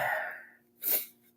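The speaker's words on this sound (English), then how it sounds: "I sneezed." A single sharp sneeze bursts out close to the microphone after a stretch of breathy, muffled sound in a quiet room.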